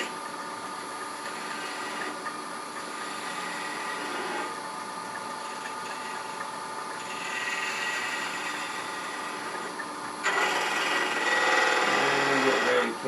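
A wood lathe parts off a turned nativity piece at reduced speed with a small detail gouge. A steady whirring hum with a scraping cut runs throughout and grows louder for the last few seconds.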